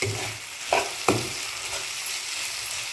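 Fresh onions sizzle softly as they soften in a pan for a dried fish curry. A spatula scrapes and knocks against the pan a few times, close and clear, with no talk.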